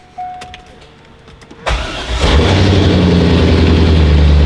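A C5 Corvette engine starts with a cranking burst, then builds into a loud, deep, rumbling rev that grows and holds strong at close range, with no talking.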